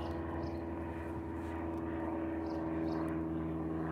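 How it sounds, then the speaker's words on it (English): A Cessna 172 light airplane flies overhead with a steady, fairly faint propeller drone that holds an even pitch throughout. "Somebody's out doing their flight training today,"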